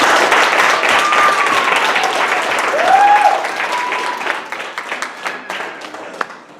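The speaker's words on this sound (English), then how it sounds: "Can we give the Lord a clap offering for that?" A church congregation claps together in a loud, dense burst of applause at a worship celebration, with a few voices calling out over the steady clapping before it thins toward the end.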